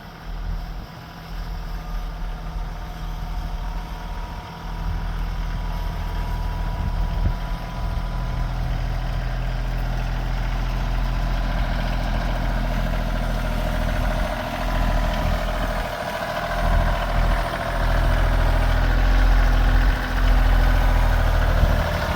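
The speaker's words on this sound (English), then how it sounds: "Thank goodness for that tractor." A tractor engine idles during cleanup after a heavy snowstorm, a steady, deep rumble that grows a little louder toward the end, with no talk over it.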